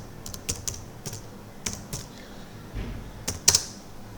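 Keys tapped on a computer keyboard in a quiet room, a series of separate clicks and short bursts spread unevenly over several seconds, fairly close and soft, with no voices.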